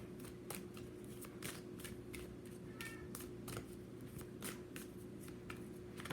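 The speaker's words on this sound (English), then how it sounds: "I'm shuffling. I'm going to pull cards in just a second." An Angel Therapy card deck is shuffled in quick, papery riffles that repeat rhythmically over a steady low hum, quiet and close.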